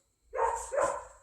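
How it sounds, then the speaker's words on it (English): A house dog barks twice in quick succession, moderately loud and slightly distant, with quiet around it. "I hear the dog barking."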